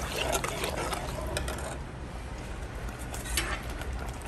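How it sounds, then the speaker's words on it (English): Apple pie filling bubbles and gurgles in a pot over medium heat, a close, steady simmering sound with occasional louder pops. "As you can see, we're bubbling nicely here."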